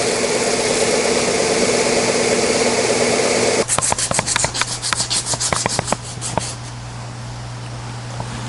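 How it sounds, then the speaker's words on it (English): Wooden knobs for Christmas jewelry boxes are sanded by hand, a steady scratchy rubbing for several seconds that then breaks into quick rapid strokes before stopping, with a low hum running underneath. "I'm just sanding my knob, all 8 of them, vigorously."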